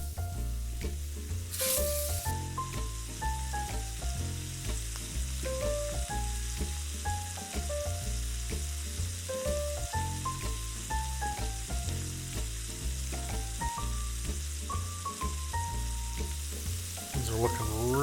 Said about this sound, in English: And a nice little sizzle